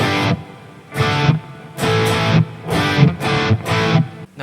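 High-gain electric guitar through a Fractal Audio AX8 in a stereo setup, played in loud distorted chord stabs with long reverb tails filling the short gaps between hits, no voice present.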